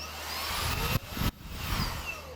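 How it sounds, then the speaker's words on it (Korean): A newly bought household vacuum cleaner whirs steadily at close range, its motor hum dipping briefly for a moment mid-run before resuming. "이건 청소기 최근에 샀는데 정말 만족하고 있는 청소기입니다."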